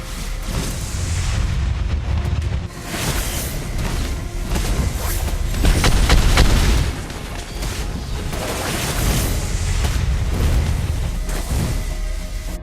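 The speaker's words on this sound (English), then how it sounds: "Your team destroyed a turret." Turret-destroyed explosions in the Mobile Legends video game, with loud, dense booming blasts and crackling bursts that run without a break over a steady roar of game sound.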